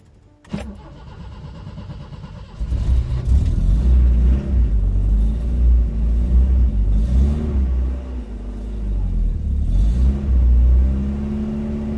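A car engine cranks and starts after a brief knock, then settles into a loud, close, rumbling idle that rises and falls with revs as the transmission shifting is tested, with no one speaking.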